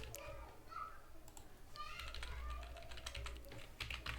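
A computer keyboard is typed on in short, quiet bursts of clicking keystrokes, faint under a low room hum, with soft speech and a voice in the background.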